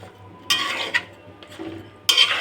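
Vegetables stirred in a pot: three short bursts of scraping and clinking from the spoon against the metal, close up, separated by quieter gaps with no talking.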